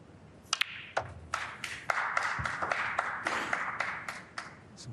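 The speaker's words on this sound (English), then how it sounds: "Some of the crowd, I think, applauding the 100 on the board" Scattered applause from a snooker crowd in Riyadh during a frame between O'Sullivan and Higgins, thin and fairly distant claps in an irregular patter with a few sharp taps, no talk over it.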